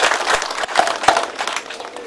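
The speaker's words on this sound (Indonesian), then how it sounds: "tepuk tangan dulu untuk" A crowd applauds a carver at a ceremony in Timika where a Catholic Church figure is honoured, giving a brief burst of clapping that sounds moderately near, with a voice mixed in.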